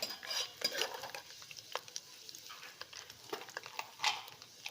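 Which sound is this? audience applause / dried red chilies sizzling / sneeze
dried red chilies sizzling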